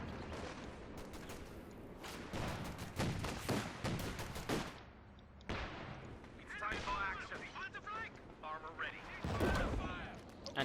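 Anti-tank guns and other weapons fire in a Company of Heroes 2 one-versus-one match, with repeated sharp blasts and bursts that come dense at first, then more scattered, mixed with battlefield effects throughout.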